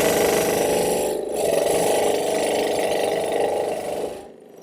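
A small scroll saw cutting through a piece of brass, a steady buzzing, rasping drone that runs continuously at close range, briefly dipping once before cutting off near the end.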